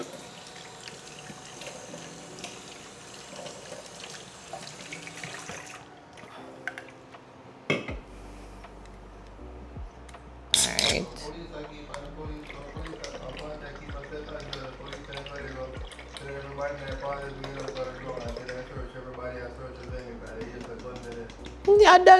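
Tins are washed under a running kitchen tap. Water rushes and splashes in the sink, with clinks and knocks as the tins are handled, while a person talks through much of it.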